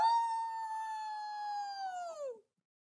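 A person imitates a wolf howl with a single long, sustained voiced note that holds steady, then slides downward and cuts off abruptly, followed by silence.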